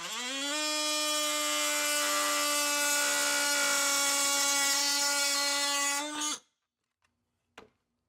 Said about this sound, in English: I can take the heads off of these bolts here very easily using this tool.